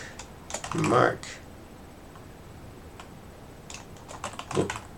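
Computer keyboard typing during a coding session in Visual Studio, soft clustered keystrokes in short bursts, with a brief murmur of speech near the start.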